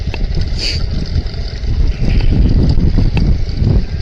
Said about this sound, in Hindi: ठंडी हवा चल रही है यहाँ पर।